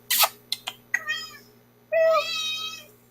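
A cat meows close by: a few quick chirping calls, then one longer, drawn-out meow, with nothing else heard around it.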